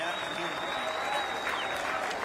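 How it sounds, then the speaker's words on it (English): An outdoor celebration crowd at a Brussels independence-anniversary event gives a steady round of applause after a flyover. The clapping is dense and even, and a faint high whine carries through it. "a warm round of applause"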